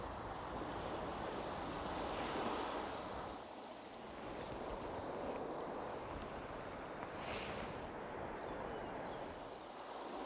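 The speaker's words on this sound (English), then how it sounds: "These waves are breaking on the beach and they're transporting sand grains up the beach." Waves breaking and washing over a sandy beach, a continuous broad rushing surge that swells and eases, heard from nearby with some wind buffeting.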